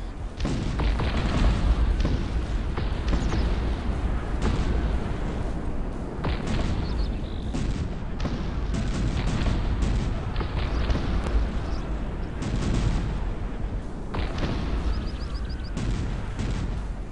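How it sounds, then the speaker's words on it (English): Cannon fire during a 3v3 match of the Cossacks 3 strategy game: repeated booming shots and gunfire bursts over a dense, continuous battle din, loud throughout with no pauses. "it's a cannon"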